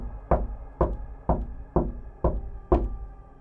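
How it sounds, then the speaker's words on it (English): Six slow, evenly spaced knocks thud on a door, each heavy and close with a resonant low body and a brief decay, the pattern deliberate and unhurried with nothing else heard. "there was another knock, louder this time, but still off, not like a normal knock"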